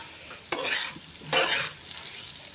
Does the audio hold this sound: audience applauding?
no